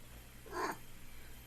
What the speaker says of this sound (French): Là, vous avez le droit à voir mon chat en pleine action.